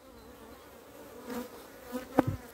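Honeybees at an open beehive during an inspection a week after a colony split, a faint steady hum with a few louder passes near the end.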